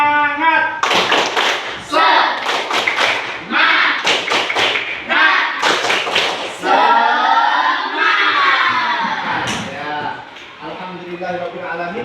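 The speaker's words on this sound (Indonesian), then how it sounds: "Tepuk semangat." Classroom of children doing the 'tepuk semangat' clapping routine: bursts of rhythmic group clapping alternate with loud chanted shouts from the whole class, close and energetic.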